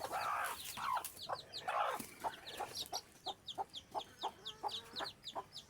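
A desi hen clucks in short bursts while her newly hatched chicks peep in quick, high, evenly spaced cheeps, close and fairly quiet with no talking.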